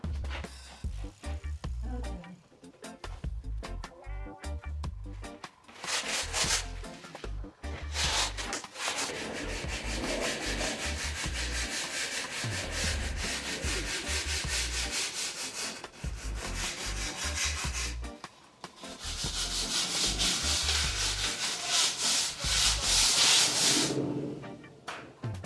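Joint compound on textured wall art is sanded by hand with continuous, close scratchy rubbing strokes that rise and fall in intensity for the whole stretch, with no speech.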